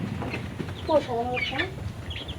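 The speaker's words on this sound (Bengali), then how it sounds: "বেশ কিছু দেশি মুরগি নিয়েছি আর মরগ একটা সাদা মরগ আনা হয়েছে" Native chickens on a small village farm, with a white rooster among them, give a short burst of close, clear clucks and squawks over quiet farmyard noise, with faint voices in the background.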